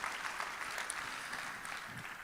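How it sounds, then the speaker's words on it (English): A live conference audience at Build 2018 applauds a presenter, a steady wash of clapping held at a modest, somewhat distant level for the whole stretch. "Another round of applause."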